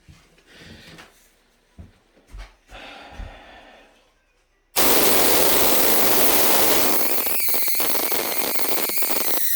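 An Oudin coil machine is switched on abruptly after quiet handling noises, then runs with a loud, constant buzzing hiss and crackle that stays steady to the end.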